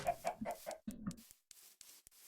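A chicken in the Minecraft modpack SevTech Ages gives a quick run of four or five clucks, close and clear, followed by a few scattered soft clicks and rustles.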